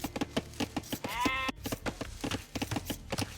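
Sheep bleat in a real-time strategy game, a wavering bleat rising out of a busy mix of short clicks and game effects, moderately loud and close.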